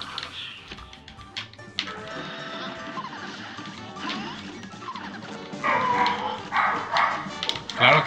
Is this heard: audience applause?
no